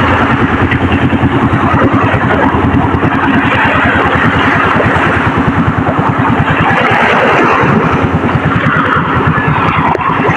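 Engine of a wooden fishing boat running steadily and loud, a continuous throbbing drone with rapid regular pulses, close by with no talk.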